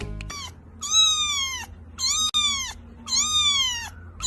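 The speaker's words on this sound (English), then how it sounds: "C for cat." A cat meows three times in a row, each call long, drawn-out and close, with short pauses between them and a low, steady background hum.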